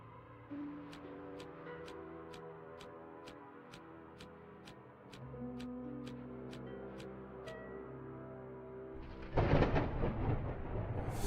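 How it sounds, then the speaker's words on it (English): Thunderclap in a video game, a sudden loud broadband crash bursting in near the end after a stretch of quiet ambient music with regular ticking. "That's loud. Another thunderclap."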